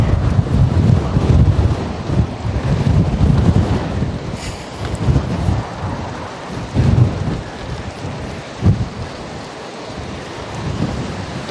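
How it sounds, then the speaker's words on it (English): Strong wind roars and buffets across a boat at sea in uneven gusts, rumbling low and loud before easing into quieter rushing. "The wind is backtracking."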